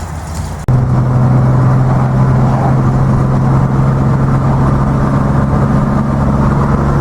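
Datsun 240Z engine running steadily on a test drive after a new radiator, a loud, close, low droning hum that holds constant after a brief click near the start, with no talk.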